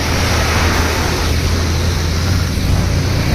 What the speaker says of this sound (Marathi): ट्रकचा आवाज आहे की काय आहे